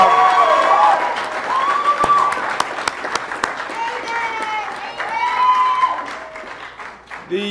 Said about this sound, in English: let's give a big round of applause to the men and women of law enforcement